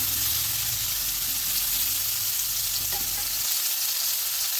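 Two medium potatoes frying in oil in a pan for a Bengali sarpunti fish curry, a steady broadband sizzle throughout with a few faint stirring knocks, close and alone with no talk.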